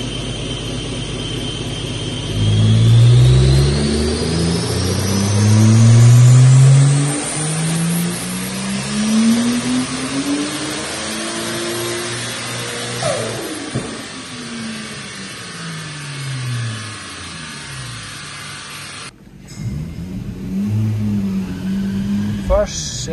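A Lexus IS200 on a dyno in fifth gear starts and revs hard, the engine note sweeping up loudly through a long pull before dropping back, then idling roughly near the end.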